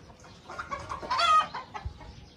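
An Aseel rooster makes a few short, close clucks and squawks during a fight, a brief burst of scratchy calls over quiet background.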